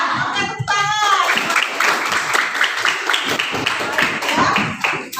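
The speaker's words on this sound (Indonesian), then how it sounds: "Oke, tepuk tangan." Children in a classroom coding lesson clap their hands together, producing a lively burst of quick, uneven claps close by, with a voice briefly heard at the start.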